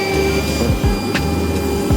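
A CNC milling machine cutting a model car part for a school team runs loud and steady, a whining mechanical drone with sweeping pitch shifts and brief clicks as the bit moves, with no talking.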